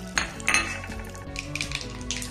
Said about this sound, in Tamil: நல்லெண்ணெய் ஊற்றி தான் இப்போ தாளிக்கிறேன்